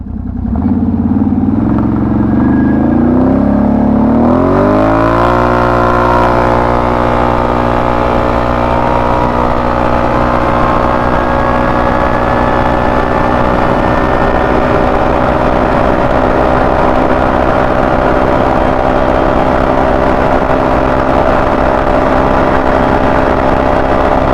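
A Can-Am with a performance exhaust accelerates on a top speed run, its engine climbing quickly in pitch over the first few seconds, then holding a loud, steady, close drone for the rest, with no voices.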